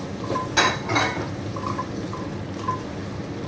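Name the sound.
stirring spice mix in a pan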